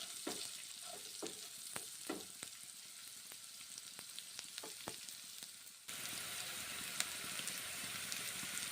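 Yardlong beans and lentils fry in a pan with a soft, steady sizzle and a series of sharp spatula scrapes and taps, followed by a louder, denser hiss near the end; no one speaks.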